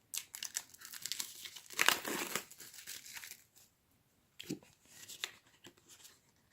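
Plastic bag holding board game cards being handled up close, soft crinkling and rustling in bursts with a quiet gap midway, no talking.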